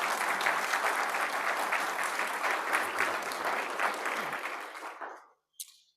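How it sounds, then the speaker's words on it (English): A meeting audience applauds three winners with sustained, even clapping that tapers off and stops near the end, leaving brief quiet and a small knock. "give them a round of applause for the 3 winners that we have"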